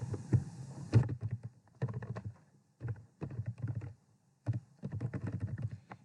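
Bursts of typing on a computer keyboard, quick clusters of key clicks separated by brief pauses, close and fairly clear with no talking.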